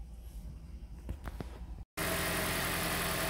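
A Toyota Prius engine idling smoothly after a cleaned EGR and a new MAF sensor, a steady low hum with a brief dropout before it returns louder and fuller.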